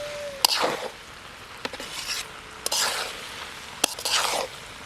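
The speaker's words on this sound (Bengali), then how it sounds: "মশলার সাথে ডালটা ভালো করে কষিয়ে নেব" Boiled dal being stir-fried with spices in a pan. A spatula makes several sharp clicks and scraping sweeps against a low sizzle, coming at irregular intervals.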